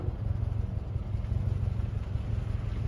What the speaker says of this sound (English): Car can go forward and backwards.